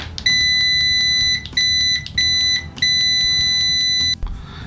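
An ANENG AN998 multimeter in continuity mode sounds a loud, high, steady electronic beep, repeated in several sustained bursts with short gaps, close and alone.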